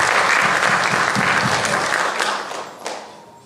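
A classroom group applauds a student during a grade 3-5 math competition, dense clapping that fades out over the last second.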